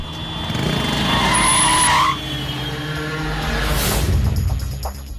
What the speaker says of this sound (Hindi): अनु, वो गुंडे हमारा पीछा कर रहे हैं। तेज चलाओ